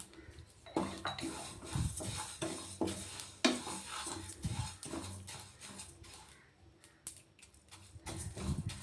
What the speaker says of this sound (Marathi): जवसला हलकंसं भाजायचं, जास्त भाजायचंच नाही